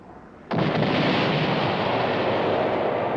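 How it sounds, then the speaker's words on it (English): A riverboat fires its cannons across a river: a sudden loud boom gives way to a sustained, rumbling roar that carries on without a break, with no voices. "It's the riverboat, firing its cannons to try to raise us up."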